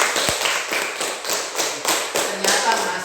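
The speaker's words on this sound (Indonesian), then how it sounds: "Tepuk tangan untuk teman kita Gary." A classroom of students claps for a classmate, a rhythmic burst of many hands beating together in steady pulses, fairly close and lively, with faint voices mixed in.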